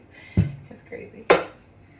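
Clean dishes clink as a dishwasher is emptied in a home kitchen, a couple of sharp close knocks of crockery with softer handling sounds between them.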